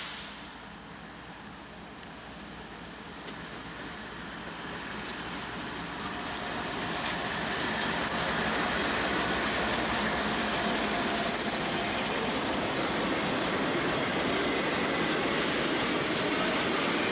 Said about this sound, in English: it's for this train coming up behind me, Y225, a yard job heading back to Southover Yard